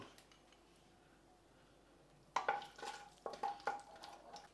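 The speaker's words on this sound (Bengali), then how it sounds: "এবার আমি এর মধ্যে 1 চামচ ঘি দেব।" A spoonful of ghee lands in hot oil spiced with cinnamon, cloves and cardamom in a pan for kaju chicken, with a quiet start and then a burst of sizzling and spoon clinks against the pan, loud and close.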